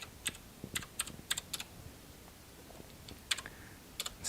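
Keys clacking on a computer keyboard as a password is typed in a terminal during an Ubuntu software install, several quick bursts of close, crisp clicks separated by short pauses, with no talking.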